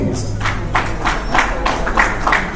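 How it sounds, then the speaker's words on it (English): Audience applause for the panelists at the close of a non-destructive testing panel session: steady, moderately loud clapping from a crowd, continuous throughout with soft rhythmic swells. "A resounding round of applause,"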